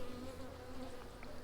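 Honey bees hum steadily around a hive box in a bee yard, a soft, continuous drone with a faint whine that stays level throughout.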